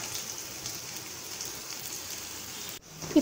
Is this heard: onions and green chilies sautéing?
yes